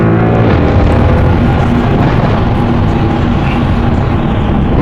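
A Mercedes C63 AMG W204 on an open road gives a loud, close, rumbling engine roar through downshifts, with rough crackling texture from exhaust pops in a continuous, dense burst of sound.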